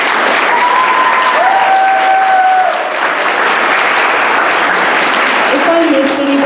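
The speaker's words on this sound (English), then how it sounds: "So please give her another round of applause" A graduation crowd breaks into loud, sustained applause filling the hall, with a voice speaking briefly over the clapping.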